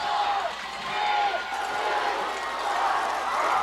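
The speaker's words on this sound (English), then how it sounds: "The crowd's chanting it down" A high school football crowd at Port Huron High's game against PHN chants down the final seconds of a playoff-clinching win. Broad, steady roar with rising and falling vocal swells throughout, loud and continuous.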